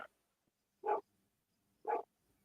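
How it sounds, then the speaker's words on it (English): A dog barks twice, short loud bursts about a second apart, with quiet room silence between and no talking. "it looks like my dog's going to go crazy"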